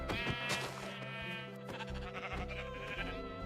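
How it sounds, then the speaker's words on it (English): Sheep in the video game Minecraft bleat in a few quick, wavering cries over continuous game background audio. "so we have a couple sheep here."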